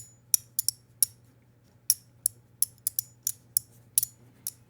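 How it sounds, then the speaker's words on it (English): Sharp plastic clicks from the three shell strips of a Beetle 3 fidget toy, about a dozen crisp snaps in an uneven rhythm, close and isolated over a faint steady hum. "we are clicking these 3 different strips of the shell."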